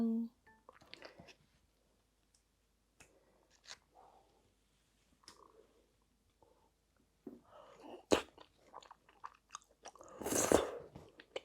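Someone eats very spicy mala rose jjimdak with rice, making sparse, faint close-up chewing and squishy mouth sounds, with louder crunchy bites near the end.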